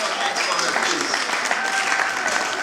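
Wedding guests applauding and cheering the bride as she rises, a dense, continuous wash of clapping and voices filling the room at close range.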